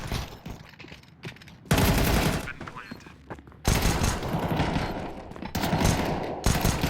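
P250 pistol fire in a Counter-Strike pro match, heard as bursts of rapid, loud gunshots in clusters separated by quieter gaps, with a caster talking over the action.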